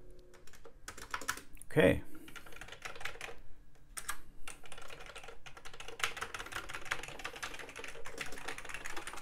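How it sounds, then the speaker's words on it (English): Keys clatter on a Commodore 128D computer keyboard in quick, uneven bursts of close clicks, with a brief spoken word and a thump near the start. "Keyboard seems to work just fine."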